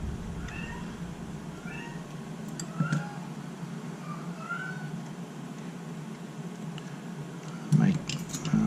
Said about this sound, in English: cat Louie is crying